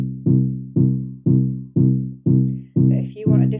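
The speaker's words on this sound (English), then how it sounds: "Okay, so our bass line now sounds like this." Synth bass line on the BandLab 62p bass preset, with evenly spaced, repeated low plucked notes, each decaying before the next, close and clear, a faint extra sound near the end.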